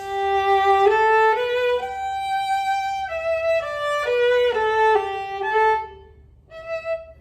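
A viola plays a sequence of short, separated staccato notes, clear and close, with brief gaps between some of them.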